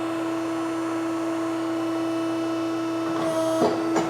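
A hydraulic mandrel tube bender extends its clamp die on a custom Corvette frame rail, with a steady electric pump hum and whine throughout, followed by a short mechanical shift and clunk near the end.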